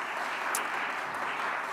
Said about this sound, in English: I want us all to give them another round of applause if we could.